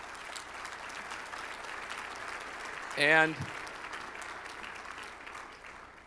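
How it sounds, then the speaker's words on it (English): Faint, diffuse applause from a dinner audience at a conference, a soft steady wash of clapping with a brief spoken word breaking through in the middle. "yeah, you can clap for that"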